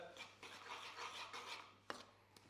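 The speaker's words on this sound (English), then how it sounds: "So if I grab a spoon and I start to stir" Pasta and cheese being stirred together with a spoon in a bowl, a soft continuous scraping rub followed by two brief sharp clinks, close and quiet.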